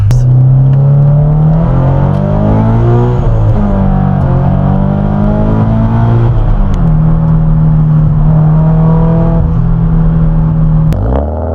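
A Subaru BRZ's exhaust note with a new custom header, running E85, rising and falling through several accelerations, a steady loud drone with pitch swells, close up and continuous.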